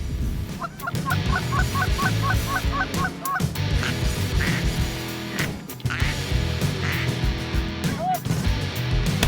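Canada geese honk again and again as they fly in while it snows, a rapid run of calls early on, then scattered honks over rustling and some low background voices.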